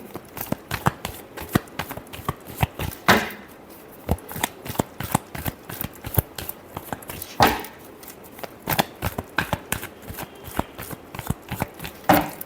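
Tarot cards being shuffled by hand during a weekly Libra reading, a steady run of quick riffling slaps and clicks for the whole stretch, close and fairly loud, with no talking over it.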